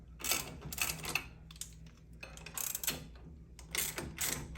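A hand ratchet loosens a bolt on a garage door bottom plate, giving quick clicking bursts in several short runs with brief pauses, close and fairly quiet.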